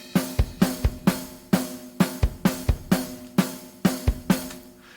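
A looped Motown-style drum groove played back in a DAW: regular kick and snare strikes over sustained cymbals, a tight, loud, evenly repeating beat heard alone.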